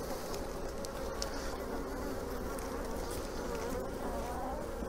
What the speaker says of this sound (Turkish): Arı sakin.